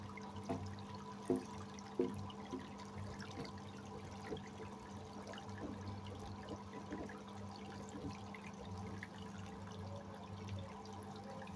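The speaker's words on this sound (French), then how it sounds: "Ça, c'est l'eau de lavage." Steaming wash water from a soiling test drains outdoors in a steady, fairly faint flow, with a few light splashes near the start and a constant low hum underneath.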